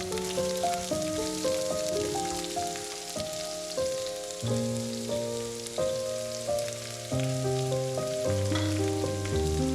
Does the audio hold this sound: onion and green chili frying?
yes